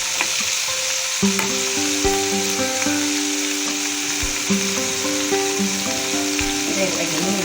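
Fish frying in a pan of hot oil, a loud, continuous crackling sizzle with occasional clinks and scrapes of a utensil against the pan.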